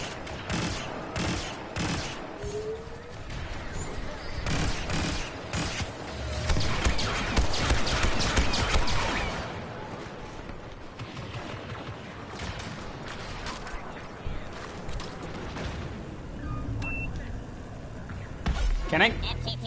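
Star Wars video game blaster fire crackles in rapid repeated bursts, dense through the first half and then sparser, mixed with mechanical clatter and a player talking over it.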